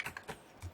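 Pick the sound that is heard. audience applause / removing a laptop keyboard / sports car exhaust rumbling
removing a laptop keyboard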